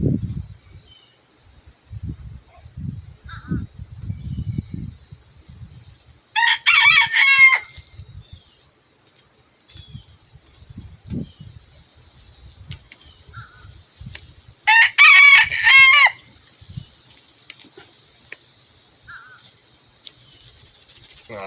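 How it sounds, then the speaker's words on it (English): Several chickens and a rooster outdoors in a citrus grove, with two loud, close rooster crows standing out over soft, scattered clucking and low background noise. "These chickens are fun."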